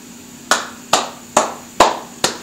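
Five slow, evenly spaced hand claps, each sharp and close with a short decay over a quiet background and no talking.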